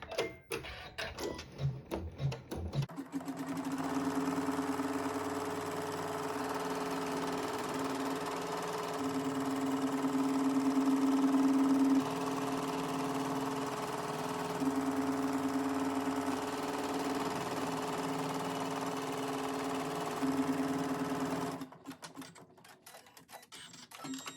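Embroidery machine stitching a tack-down line in darker thread on a quilt block, a steady mechanical whir with a fast, even needle rhythm running nonstop for about twenty seconds, close and fairly loud, starting and stopping abruptly.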